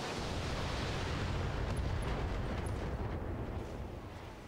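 Mech weapons firing on a target in Battletech: a continuous, heavy roar of blasts and rumbling impacts, loud and dense throughout, easing slightly at the end, with no voices.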